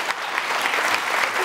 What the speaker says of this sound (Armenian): մի հատ ծափ խնդրում եմ